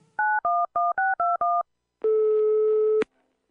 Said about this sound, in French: Jamila pianote maintenant sur le clavier de son téléphone.